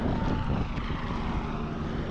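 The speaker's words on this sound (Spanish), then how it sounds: "un helicóptero nos visita por aquí" A helicopter passes overhead near a beach at Playa del Carmen, its engine and rotor drone loud, steady and close throughout the short stretch, with no talk.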